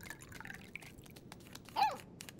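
Water pours into a dog's drinking bowl in the video game Life is Strange 2, heard as a short, close liquid splash and trickle near the end over quiet background sound.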